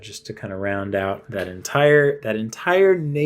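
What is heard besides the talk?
No everyday noises stand out.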